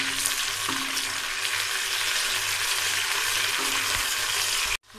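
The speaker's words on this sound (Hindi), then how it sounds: "लहसुन अदरक को थोड़ा सा भून लिया।" Garlic ginger paste fries in a pan with a little water for a karela gosht dish. A continuous close sizzle runs with occasional stirring scrapes, then cuts off abruptly near the end.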